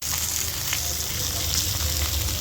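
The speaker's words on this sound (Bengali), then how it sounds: "দেখো বন্ধুরা কি সুন্দর ভাজা হচ্ছে।" Pabda fish frying in hot oil in a pan, a continuous bright sizzle with small crackles and spits running steadily throughout, close up.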